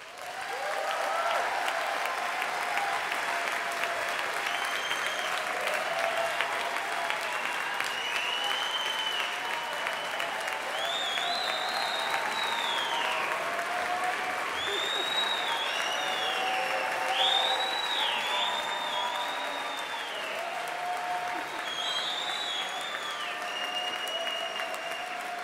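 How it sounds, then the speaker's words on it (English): Sustained audience applause fills a large hall at a student peace prize ceremony, steady dense clapping with scattered whoops and cheers rising above it, lasting well over twenty seconds. "So I think we should give them a good applause."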